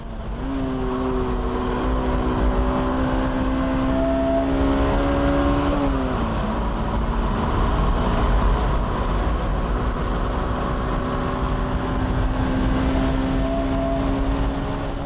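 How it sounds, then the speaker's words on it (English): A Honda NSX Type R pulls hard down a race track straight with a steady, loud engine drone. The pitch climbs through the gears, drops briefly at a shift, then climbs again. "The straight-end acceleration is impressive."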